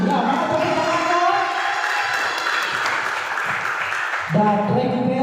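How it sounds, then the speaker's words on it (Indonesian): A crowd at a boys' team Islamic quiz competition (Fahmil) breaks into a burst of applause with some cheering between an announcer's score readings. Talking can be heard at the start and again near the end. "Ya, mana tepuk tangannya?"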